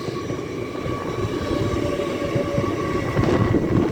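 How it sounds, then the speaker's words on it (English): LNER train bound for Edinburgh approaching Peterborough station, a steady rumbling roar with a faint tonal whine that swells slightly louder toward the end, no voices. "Now approaching is an LNER service bound for Edinburgh."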